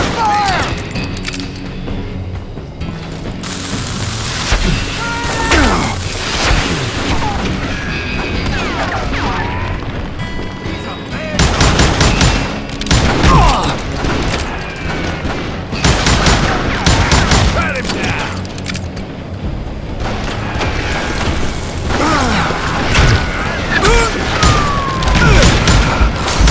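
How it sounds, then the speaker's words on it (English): Gunfire in the Western shooter Call of Juarez: Gunslinger, dense volleys of loud shots with crashes and impacts that keep coming in waves, with voices now and then. "Who's shooting at us? We're under fire!"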